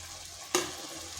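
Soybeans hit hot spiced masala in a pan with one sudden sharp sizzle burst, then a softer frying hiss and stirring continue briefly.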